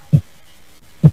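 Two deep, thudding heartbeat pulses from a horror video game, spaced about a second apart, low and muffled against near silence.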